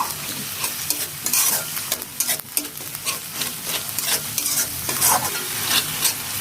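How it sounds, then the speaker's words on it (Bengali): Ginger-garlic paste and onion paste are fried with chopped onions in a pan, with continuous crackling sizzle and repeated scraping spatula strokes, close up and with no talking. "আমরা ওই পেঁয়াজ কুচি ভাজার মধ্যে ভালো করে কষিয়ে নিচ্ছি।"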